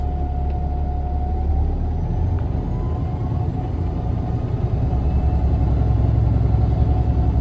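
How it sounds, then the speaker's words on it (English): A truck engine runs steadily at raised revs during an air brake governor cut-out test, a loud, continuous close rumble that swells slightly toward the end, with no talking. "I will rev the engine no more than 1300 RPMs to speed up the process."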